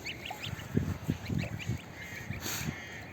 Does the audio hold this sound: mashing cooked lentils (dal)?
no